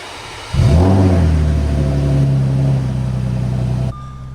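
A rebuilt Audi B8.5 S4 starts moving for its first drive, its engine revving up sharply and then holding a steady, fairly loud drone for a few seconds before cutting off.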